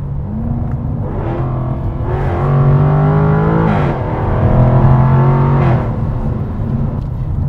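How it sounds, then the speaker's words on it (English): A 2024 Jaguar F-TYPE R 75 with a supercharged V8 and a loud aftermarket-style exhaust, revving hard and close in two sustained surges with a bark between them and no talking. "we have a supercharged V8 up front that makes a glorious sound"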